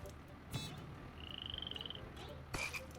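Frogs croaking in a video game, with a rapid trilling croak in the middle and a few short sharp calls, set over a faint background hum and some brief clicks.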